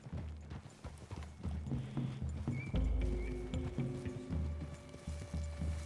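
Horses walk in Red Dead Redemption 2, their hooves clip-clopping in an irregular steady rhythm close by, joined partway through by a low, louder rumbling swell.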